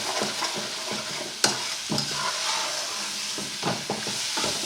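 Fajita meat and vegetables sizzle steadily in an old, weathered fry pan while a spoon scrapes across the bottom with several sharp scraping strokes, close and fairly loud over a constant frying hiss.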